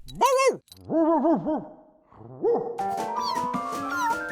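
A cartoon dog barking and whimpering in a few rising and falling yelps up close, followed by a musical score swelling underneath.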